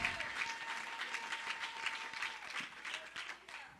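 Church congregation applauding during a Sunday service, steady dense clapping filling the space with no talk over it, tapering slightly at the end.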